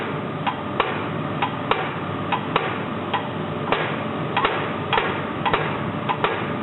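Diesel injector from a D-49 engine firing on a test stand, a run of sharp metallic clicks at irregular close intervals over a steady mechanical hum.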